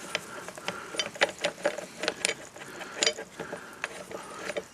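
The cutting head of a brushcutter being unscrewed by hand, a quick run of small ratcheting clicks and plastic rattles close by, without talk.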